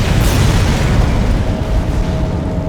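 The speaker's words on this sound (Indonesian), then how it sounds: "Dan ya, tiba-tiba meledak guys." Explosion in the video game Dead Space, a loud, close, sustained boom with a rumbling roar that fills the whole stretch, with no talk.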